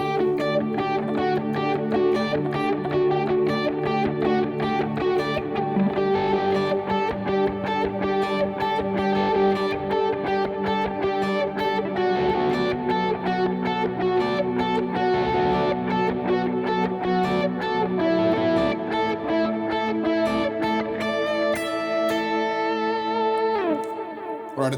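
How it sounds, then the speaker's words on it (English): Electric guitar playing a rhythmic picking pattern through a delay effect for worship music, ringing, sustained notes layered with repeats, steady and clear, with no voice over it. "So the second time around, I went for this kind of picking pattern."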